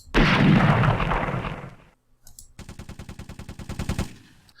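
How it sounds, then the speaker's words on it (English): Gunfire from enemy AI units pours onto the player's troops in the WWII tactical war game Tigers on the Hunt: a loud, booming explosive blast, a short pause, then a rapid, steady machine-gun rattle that fades out. "the AI will fire on my units"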